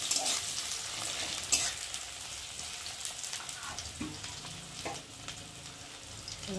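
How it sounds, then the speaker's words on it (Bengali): Onions fry in hot oil in a kadai, a steady close sizzle with stirring scrapes and occasional spatula knocks throughout, no voices. "পেঁয়াজটা একটু ভালো করে লাল লাল করে ভেজে নেব।"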